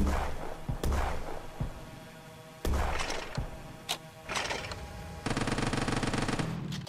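Weapons firing in the video game Quarantine Zone, with scattered loud gunshots and thuds, short bursts and a steady mechanical buzz toward the end, no talk over it.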